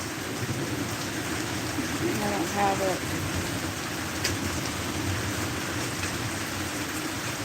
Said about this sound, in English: Somebody over there stuck in the rain too.